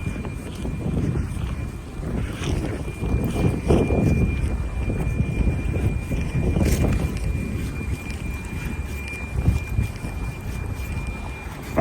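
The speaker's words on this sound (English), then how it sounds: "Sorry about the wind." Outdoor wind buffets a microphone during a building sprinkler alarm test, a loud continuous low rumbling roar with gusty surges and no talking.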